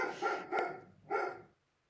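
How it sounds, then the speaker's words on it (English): A dog barks loudly and close by, three sharp barks spaced roughly evenly across about a second and a half, then silence; no one speaks. "I might just hold this for one moment so that I can get him to stop barking."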